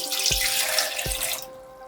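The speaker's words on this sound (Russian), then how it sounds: "наливаем в кашпо водички" Warm water pours in a rushing, splashing stream into a decorative planter pot for watering a phalaenopsis orchid, with two low plops partway through before the flow stops near the end.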